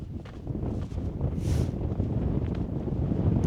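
Gusting wind buffets the microphone at a wild camp just below a 2900 ft mountain summit, a continuous low roaring rumble that stays loud and close throughout.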